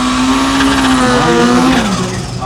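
A fast drag racing car at the Brisbane jamboree screams past up close, a loud sustained engine wail with a falling, shifting pitch, alone without talk.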